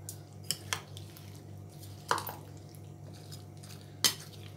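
A spoon mixing fruit chaat in a bowl, a few distinct clinks and taps against the bowl over a quiet background, spaced irregularly.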